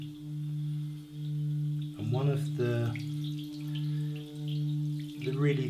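A large antique Himalayan singing bowl hums with a steady, sustained resonant tone that swells and fades in slow waves, while a person speaks over it.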